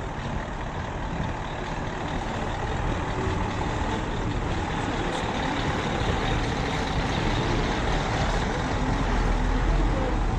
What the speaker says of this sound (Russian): тут приехала машина для работы.